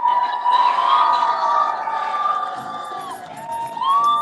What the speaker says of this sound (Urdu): بھرپور تالیاں علی کے لیے